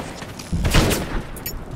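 Gunfire in the video game BioShock, a burst of shots beginning about halfway through and continuing as a rough, crackling volley, fairly loud with no talk over it.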